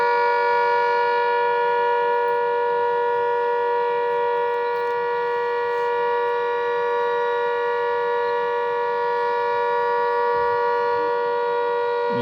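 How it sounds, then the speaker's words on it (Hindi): A civil defense siren wails steadily and loudly for the whole stretch, a sustained mechanical tone carrying across Kanpur during a blackout mock drill after Operation Sindoor. "ये कमला टावर, जेके वालों का सायरन।"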